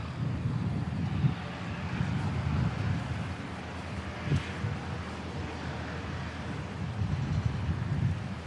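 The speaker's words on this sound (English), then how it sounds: "Wind's certainly starting to pick up again." Strong gusty wind at an airport buffets the microphone in a steady low roar, rising and falling in gusts for the whole stretch, with no voices.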